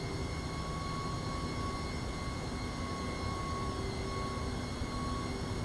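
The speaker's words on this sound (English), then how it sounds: "And here comes our airplane." An MD-11 airliner taxis in the X-Plane flight simulator, a steady, moderately faint jet engine drone with constant tonal whine and broadband rumble, no talk.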